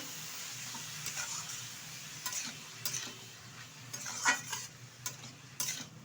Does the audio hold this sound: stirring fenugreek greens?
yes